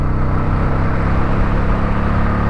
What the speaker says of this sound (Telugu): మీరు దీంట్లోనే 5th గేర్లోనే థ్రాటిల్ తిప్పేస్తే చాలు,